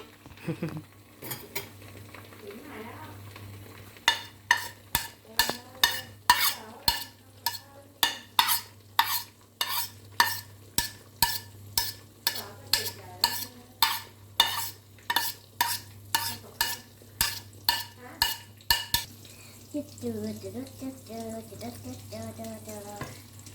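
Shrimp omelette egg poured into hot oil and frying in a pan, with a steady series of sharp scraping clacks like a utensil stirring against the pan, then a softer sizzle at the end, no voices.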